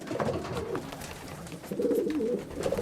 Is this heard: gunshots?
no